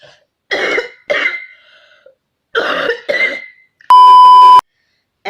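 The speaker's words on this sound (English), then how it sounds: "when I just switched on the camera, that's when the cough came" A woman coughs in two pairs of harsh bursts, separated by a pause, then a steady electronic beep sounds alone for under a second near the end.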